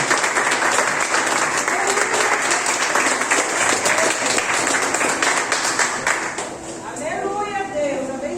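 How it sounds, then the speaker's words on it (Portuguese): A church congregation at a worship service applauds in a sustained, loud burst of clapping that tapers off toward the end, with voices speaking and calling out over it. "Você pode ficar de pé, aplaudir o Senhor?"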